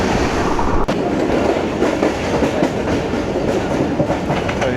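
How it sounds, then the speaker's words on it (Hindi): A Babu passenger train pulls into the yard at Haripur Band railway station, with a steady loud rumble of rolling railcars and clickety-clack wheel beats throughout, and no voices. "ये ट्रेन पहुंच चुकी है हरिपुर बंद रेलवे स्टेशन के यार्ड में"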